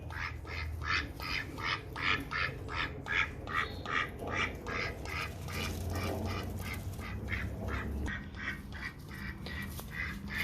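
A duck quacks over and over in a fast, steady series of loud, close squawking calls. No one speaks.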